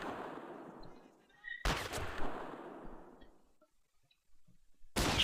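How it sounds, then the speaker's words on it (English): Gunfire in the World War II strategy video game Men of War: Clash of Powers, with two sharp, loud shots each trailing a long fading echo and a third shot at the end. "Just shoot him again to make sure."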